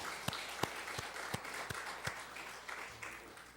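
Congregation at an evening Holy Week prayer service clapping together to glorify God, a steady wash of applause with a few sharper claps standing out at a slow beat, fairly quiet and roomy.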